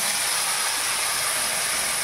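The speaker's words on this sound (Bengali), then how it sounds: "এবারে আমি এই বাঁধাকপিটা অ্যাড করব।" Shredded cabbage drops into hot oil with spices and sizzles, a loud, steady, close hiss that lasts the full two seconds with no voices.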